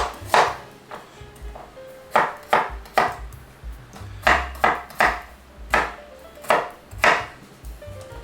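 A knife chops garlic into bits on a board in a series of sharp, close, irregular knocks, about a dozen of them over several seconds. No one speaks.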